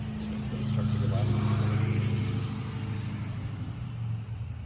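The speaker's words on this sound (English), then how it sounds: "Just waiting for this truck to go by." A truck drives past on a residential neighborhood street, its loud low engine rumble swelling in and fading out over several seconds with a brief hiss near the end.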